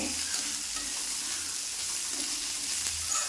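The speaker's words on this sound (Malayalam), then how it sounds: "ഇതിലേക്ക് നമ്മൾ സവാള ഇട്ട് കൊടുക്കുക സവാള ഇട്ടൊന്ന് നന്നായിട്ട് വഴന്ന് മൂത്ത് വരണമേ" Sliced onions sauté in hot coconut oil for a Kerala sadya-style cabbage dish, filling the space with a constant close sizzle and a hiss like frying, with no voices.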